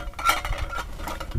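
Lightweight camping cookware, a small pot for heating water, a cup and a pan with a handle, is handled in a quick burst of close metallic clinks and light knocks, with no talk.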